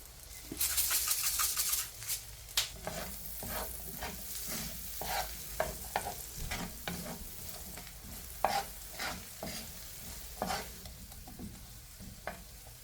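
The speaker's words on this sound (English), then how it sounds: "Add some butter. Slowly cook those onions." Onions slowly cooking in butter in a pan over turned-down heat, a steady soft sizzle close by, broken by repeated scraping strokes of a utensil stirring the pan.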